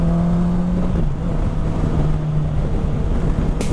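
Steady engine drone of a 2019 Honda CB650R Touring Edition motorcycle on the move, with a constant low hum and wind rush throughout, no talking.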